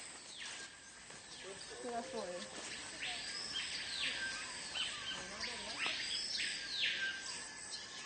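Repeated rising-and-falling calls of a gendarme bird ring out over a faint insect hum in the French Guiana rainforest, with soft talking underneath in a quiet outdoor setting.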